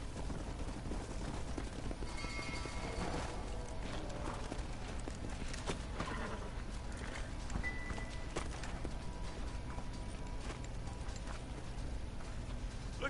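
Horse hooves clip-clop through a Red Dead Redemption game scene, a steady soft beat under continuous busy background sound, with no clear speech.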